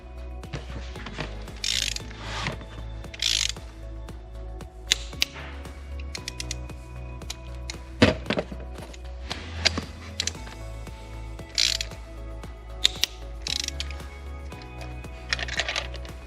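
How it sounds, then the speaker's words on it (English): Torque wrench ratcheting as it tightens spark plugs on a Volvo 2.0L engine, with repeated bursts of quick metallic clicks scattered over a low steady hum, close and fairly quiet, no speech. "and then your torque wrench should click."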